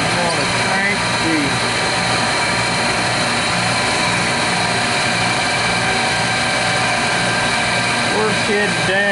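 A reamer grinder's grinding wheel runs loud and steady throughout, a constant mechanical whine and hum with someone talking over it.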